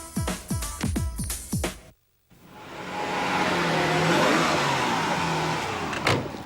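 Twelve-cylinder car engine at a drag racing event, revving in several sharp bursts, then briefly cutting out before a long sustained roar, loud and close with no speech.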